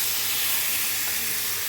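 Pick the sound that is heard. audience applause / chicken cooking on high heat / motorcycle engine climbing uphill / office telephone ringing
chicken cooking on high heat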